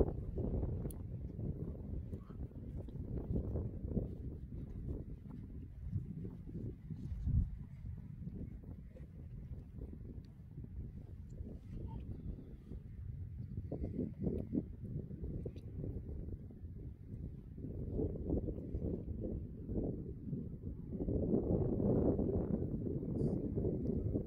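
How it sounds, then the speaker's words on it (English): Wind blowing outdoors at the Standing Stones of Stenness stone circle on Orkney, a steady low buffeting roar across the microphone that swells and gusts more strongly toward the end. "I'm going to step out in the wind now."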